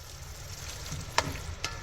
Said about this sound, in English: Now I'm going to give this a stir.